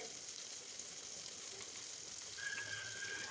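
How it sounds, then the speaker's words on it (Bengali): Onion with garlic paste frying in a pan gives a faint, steady sizzle with light crackling, swelling slightly near the end, with a quiet clink over it. "এখন এই পেঁয়াজটাকে ভেজে নিব"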